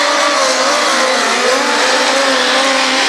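Midget race cars roaring around the dirt oval at Valley Speedway, a dense, continuous high-pitched engine wail from several cars at once, loud and steady with shifting tones as they power through the turns.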